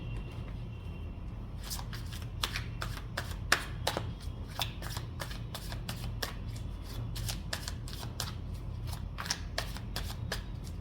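Tarot cards are shuffled for a reading, producing a close, continuous patter of quick riffling snaps and soft card slaps in an irregular rhythm over faint low background hum, with no talking.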